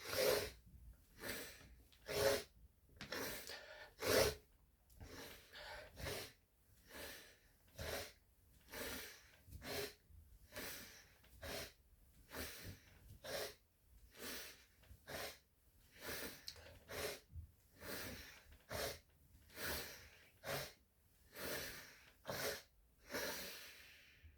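Forceful rhythmic breathing during Kundalini yoga frog pose, with about twenty sharp inhale and exhale bursts repeating roughly every second, close and steady with no talking.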